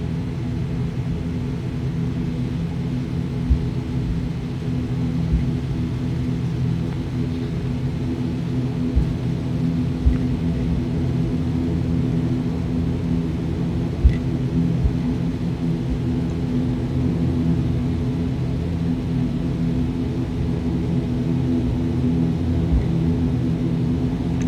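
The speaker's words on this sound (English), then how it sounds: "A light aircraft in the background there." A light aircraft at Guernsey airport drones in the background as a steady low rumbling hum, continuous and even for the whole stretch, heard from inside a waiting airliner with no talk.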